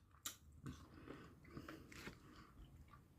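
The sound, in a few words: someone eating homemade ice cream made from frozen fruit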